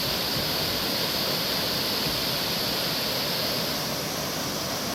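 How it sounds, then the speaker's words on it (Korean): A small stream flowing through a dense forest valley in a Gapyeong pine forest, heard as a steady, close, unbroken rush of water with no voices. "울창한 숲 사이로 물이 흐르는 모습을 바라보고 물소리를 들으며 걸으니"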